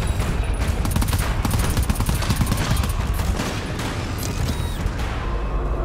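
Dense, rapid gunfire from the co-op shooter game GTFO fires close and loud in continuous bursts, with a few sharper booming reports, and it runs for the whole stretch.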